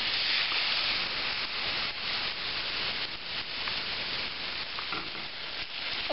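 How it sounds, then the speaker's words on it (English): Chicken fries in oil in a pan with a steady, close, dense sizzle that carries on unbroken throughout. "we're going to put the chicken inside, and we're going to let it cook for about 5 minutes per side"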